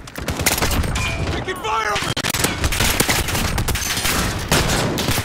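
Dense, continuous gunfire and machine-gun bursts from a military video game battle fill the whole stretch, loud and close, with a brief voice heard over the shooting.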